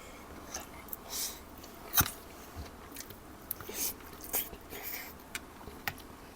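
Close, fairly quiet chewing and biting of crunchy stir-fried cuttlefish in a spicy holy basil seafood dish, with soft crunches and moist squishing at an irregular pace.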